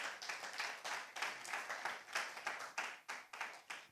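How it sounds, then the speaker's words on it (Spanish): A church congregation claps together in a quick, rhythmic burst, many hands striking in a fairly regular pulse that swells and fades, moderately close and quiet, with no talk over it. "Vamos a darle un aplauso al Señor."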